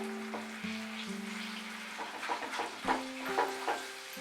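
Pav bhaji vegetable mash is stirred in a pan over low heat after a quarter cup of water goes in, giving soft, scattered scraping and wet squelching amid a steady background hum.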